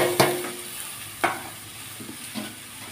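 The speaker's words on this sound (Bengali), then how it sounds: "এবারে আমি এই ভেজে রাখা শাকগুলোকে দিয়ে দিচ্ছি" Previously fried greens are tipped into a pan of vegetables and stirred, giving three separate scraping, clattering strokes against the pan over a soft sizzle.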